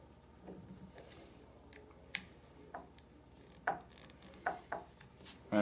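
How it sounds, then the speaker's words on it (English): An Allen key turns bolts on an Empire BT-4 Combat paintball marker during reassembly, giving a handful of sharp metallic clicks and taps spaced apart over quiet room tone, the last one louder and close. "Now, again, you notice I'm using the Allen key. I'm finger tightening with just the short handle."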